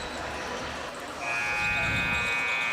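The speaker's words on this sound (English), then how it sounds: "There's the buzzer for halftime." A loud, sustained electronic buzzer marks halftime at a girls' high school basketball game, sounding for over a second above gym noise and crowd murmur, with commentators talking alongside.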